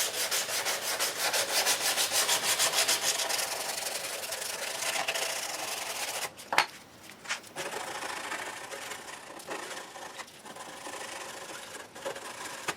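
Hand sanding the edges of brittle extruded sheet acrylic with 180-grit paper, close rapid rhythmic scraping strokes that run steadily, then slow into sparser, scattered rubs with short pauses.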